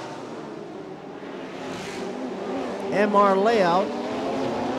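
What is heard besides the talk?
race car engine roaring at Bangsaen Street Circuit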